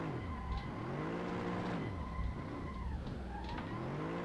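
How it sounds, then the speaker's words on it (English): A car drifts in the racing game Assetto Corsa, its engine revs rising and falling in sweeping pitch swings while tires squeal and skid, loud and continuous without speech. "This thing actually drifts pretty easy."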